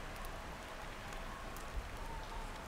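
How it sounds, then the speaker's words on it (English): Steady hiss of rain in the wintry survival game The Long Dark, a soft, even wash of falling drops with faint patters and no other sound. "there's a lot of white noise in this game."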